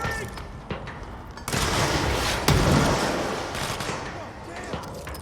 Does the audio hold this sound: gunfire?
yes